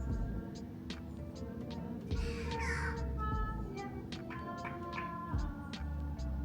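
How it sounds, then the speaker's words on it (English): Birds call busily outside, with repeated sharp chirps and a few harsher caw-like cries over a steady low rumble of background noise. "the birds outside my window are bonkers"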